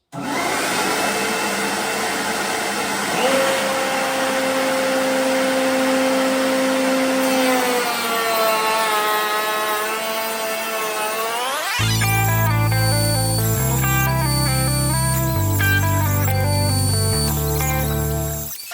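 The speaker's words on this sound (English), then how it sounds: "we're going to feed all the pieces through this stiles bit" A router with a stile bit cuts cabinet stiles while a shop vacuum is hooked up, giving a loud steady whine. Partway through it gives way to a brighter, choppier tonal sound with distinct steps.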